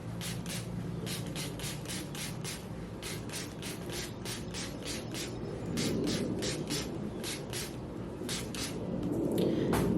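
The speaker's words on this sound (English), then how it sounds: "spray my hair." Repeated short bursts of spray from a spray bottle misting locs hiss in a steady rhythm, close up, with soft rubbing and handling noise underneath and no voices.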